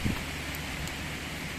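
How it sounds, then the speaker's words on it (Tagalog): Heavy rain pours down outdoors in a steady, dense hiss that stays loud and even throughout, with no pauses. "Ayan na, sobrang lakas ng ulan oh."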